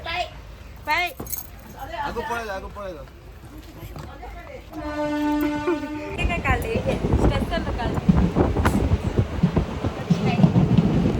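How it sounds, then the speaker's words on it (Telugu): A train rolls in with a long horn blast and rising rumble, while people chatter nearby and the rail noise grows louder toward the end. "ఫైనల్లీ ట్రైన్ అయితే వచ్చేసింది"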